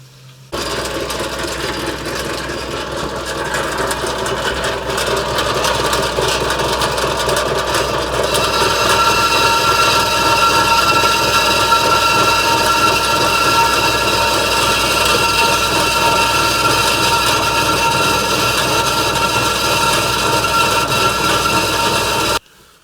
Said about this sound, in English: The bandsaw is just getting too gummed up on this.